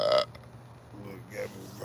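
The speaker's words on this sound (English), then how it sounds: "Look, got me burping." A single short burp at the very start, fairly close and brief, followed by quieter background sound and faint voices.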